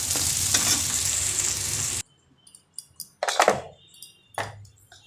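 Spices frying lightly in a pan while making butter chicken and chilli chicken give a loud, continuous sizzle for two seconds, then it cuts off to quiet with a few scattered clinks and scraping stirs.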